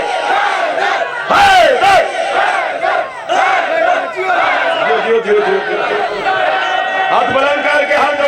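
A large crowd at a religious majlis gathering shouts the slogan Haidari in unison, a loud, dense roar of many voices with ragged overlapping cries that rise and fall across the stretch.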